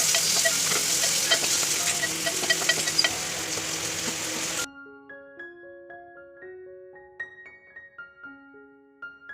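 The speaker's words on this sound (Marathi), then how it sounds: "कांद्याला थोडा गुलाबी असा रंग आल्यावर आपण त्यात एक छोटा टोमॅटो जो आपण चिरलेला तो त्यात टाकून घेऊया" Sliced onion and chopped tomato sautéing in a pan while Malvani chicken sukkha is cooked: a loud, steady sizzle for about half the time, then it cuts off and quiet tonal musical notes follow.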